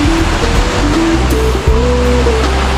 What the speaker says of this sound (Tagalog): Ayan yung pinaka beach ng Princess Cays.